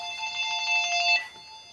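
A telephone rings in a machine shop where a Lagun vertical milling machine is being adjusted, a steady electronic ring tone holding for over a second and then cutting off, fairly close and clear with no talk over it.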